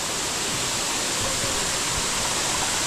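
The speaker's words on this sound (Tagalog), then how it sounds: "dito na ulit yung malakas yung tubig" Steady, loud broadband roar of a strong waterfall pouring at close range, continuous and even throughout, with no voices.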